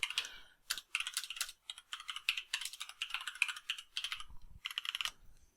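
Rapid typing on a computer keyboard in an office, with steady, close clicking in short bursts and brief pauses, alone and without talk.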